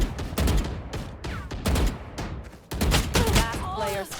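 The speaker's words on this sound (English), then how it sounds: "Look at us shooting our gun" Gunshots from Valorant ring out in quick repeated volleys, mixed with a player's voice talking over the shooting throughout.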